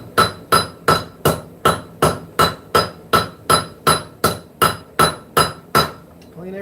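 A hammer strikes a knife blade on the horn of an anvil during hand forging, about fifteen loud, sharp, ringing blows in a steady even rhythm, close up and with no talk.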